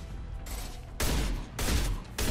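Assault rifle fire in Mass Effect Legendary Edition, several loud sustained bursts broken by brief pauses, close and with no talk over them.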